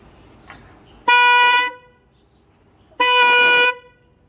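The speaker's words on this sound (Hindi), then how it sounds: "अभी हम इसको हॉर्न के साथ चलाते हैं" Two loud, bright motorbike horn blasts, each lasting about half a second, separated by a short pause of quiet.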